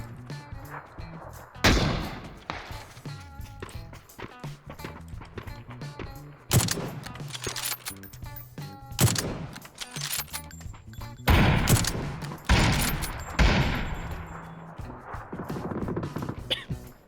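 Sharp bursts of PUBG gunfire ring out in scattered volleys, some loud and close, others quieter, over a low background.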